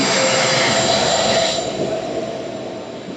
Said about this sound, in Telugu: అటు సైడ్ అయితే ట్రైన్ అయితే వచ్చింది,